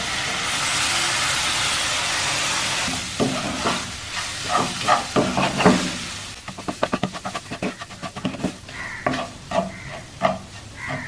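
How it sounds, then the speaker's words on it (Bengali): Hot milk hits semolina frying in a pan for halwa, setting off a loud, steady sizzle for a few seconds, then giving way to bubbling and uneven stirring scrapes. "গরম দুধ দিয়ে দিচ্ছি"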